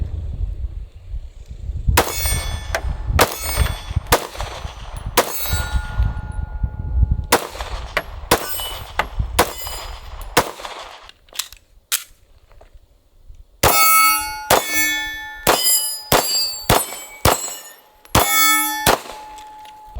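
A Smith & Wesson Performance Center M&P 9mm Shield EZ pistol fired outdoors at steel targets: sharp, loud shots come in quick strings, each followed by a bright metallic ring from the struck steel, with short pauses between strings.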